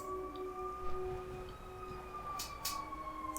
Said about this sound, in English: there's a siren going on